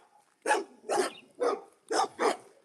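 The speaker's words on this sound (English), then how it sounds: "More doggos coming out to bark at us" Several dogs bark outdoors at passersby, five distinct barks in an uneven rhythm, moderately near and clear with no talking over them.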